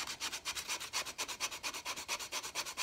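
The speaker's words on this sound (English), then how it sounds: "Lots of hand sanding between these tines." Rapid back-and-forth scratching of 80-grit sandpaper on a wooden fork between its tines, a steady brisk rhythm of strokes close by.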